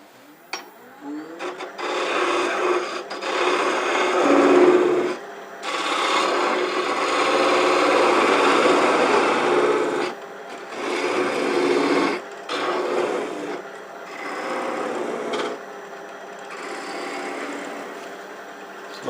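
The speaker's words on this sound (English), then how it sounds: "now I just got to cut deeper here with the skew" A skew chisel cuts into scrap wood spinning on a woodturning lathe, giving a steady rasping, scraping hiss in several bursts of a few seconds each, separated by short pauses, close and fairly loud, with no talk.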